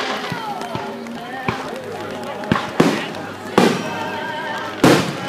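Fourth of July fireworks go off in a rapid barrage, several sharp booms and crackling bursts spread across the sky at moderate distance, with excited voices of onlookers talking and exclaiming throughout.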